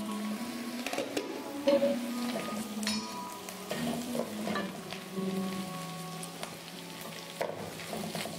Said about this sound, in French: J'ajoute un tout petit d'eau pour faire cuire mes légumes.